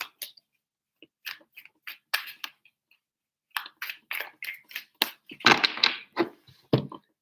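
Tarot cards being shuffled in a series of short, crisp bursts of riffling and tapping, close up, separated by brief quiet gaps, with a busier stretch near the end.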